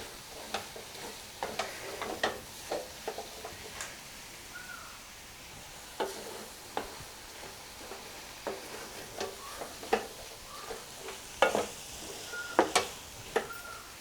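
Snake gourd and egg scramble fries on low heat in a pan while being stirred, giving a faint steady sizzle with scattered sharp scrapes and clicks of the spoon against the pan, with no talking.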